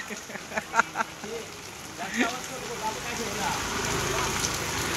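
Steady rain patters down over the open-air Devgad bazaar in the Konkan. A few sharp knocks and faint voices come first, then an even, moderately loud hiss of falling rain takes over.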